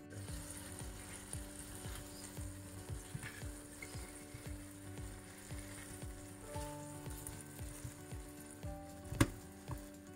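Cheese melts and sizzles quietly in a frying pan where ham was just cooked, a soft, steady crackle with small pops and a few scraping clicks.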